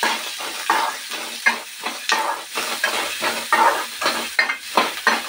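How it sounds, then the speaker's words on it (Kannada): Two small chopped onions frying in a pan for palak rice, crackling sizzle broken by rhythmic spatula scrapes and stirring strokes about twice a second, close and clear with no talking. "ಚಿಕ್ಕ ಸಣ್ಣ ಸಣ್ಣದ 2 ಈರುಳ್ಳಿನೇ ಹಾಕತ್ತೀನಿ. ಅದನ್ನ ನೀಟಾಗಿ ಫ್ರೈ ಮಾಡ್ತೀನಿ."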